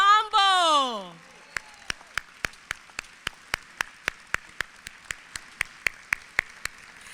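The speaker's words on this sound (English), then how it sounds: "Give a round of applause" A short vocal cheer rises and falls, then sharp, evenly spaced claps ring out one at a time at a gala, steady and fairly loud, without a crowd.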